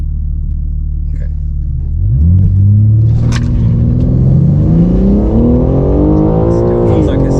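A BMW G80 M3 Competition launches on a drag strip with wheelspin, its engine idling loudly and then surging into a rising, sustained roar as it accelerates, close and dominant throughout.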